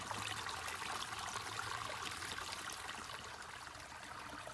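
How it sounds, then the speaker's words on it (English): A steady, broad rush of falling water, constant and fairly close, with no voices over it. "Now get closer to the waterfall. You can hear it."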